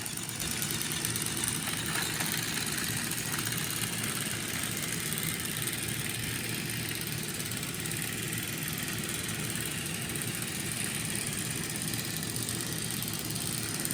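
Two Plarail toy trains, an E-257 and an Arctic Liner with a dud motor, push against each other with their small electric motors running in a steady, unbroken whirring drone.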